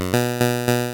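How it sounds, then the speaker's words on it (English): Steady square-wave tone from oscillator one of an Analogue Solutions Leipzig-S analogue synthesizer, a rich buzzy harmonic drone played as a few repeated sustained notes, loud and alone. "I'm going to pull up just a straight up square wave"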